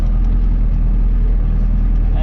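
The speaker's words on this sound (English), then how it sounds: "We use this tractor to unload the straw mainly because it's the one with the most reach on." A farm tractor with a front loader, used for unloading straw bales, runs steadily at close range, its low engine rumble constant and loud throughout.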